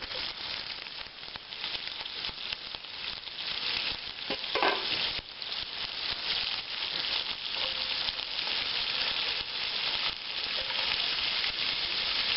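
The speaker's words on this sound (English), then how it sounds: "I'm going to put it in here into the hot pan and fry it up, cook it down just a little bit." Chopped sausage fries in a hot pan for jambalaya, a steady close sizzle with occasional stirring scrapes running throughout, loud and continuous with no talking.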